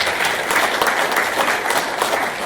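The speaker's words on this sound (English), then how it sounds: "that is probably worth a round of applause because that is crazy" An audience at a Drupal conference talk breaks into a full round of clapping. It is loud and sustained, with a little rise and fall across its few seconds.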